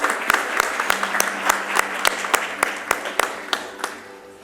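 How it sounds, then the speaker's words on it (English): Audience applause at the inauguration of a power and utilities conference and exhibition, a steady roomful of clapping with sharp individual claps rising above it, sustained throughout at moderate loudness. "Let's have a round of applause, ladies and gentlemen."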